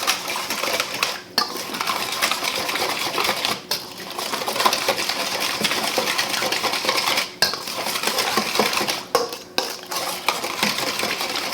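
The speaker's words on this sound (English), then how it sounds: "Now I'm just going to go in with my whisk." Olive oil whisked in a bowl, a steady close clatter of the metal whisk against the bowl that runs without a break, with only a few brief pauses.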